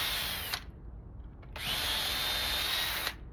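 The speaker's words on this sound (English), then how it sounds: "I like to pre-drill." A power drill pre-drills holes in weathered wood, whirring in two separate bursts, the first short and the second longer, close and loud with a brief pause between them.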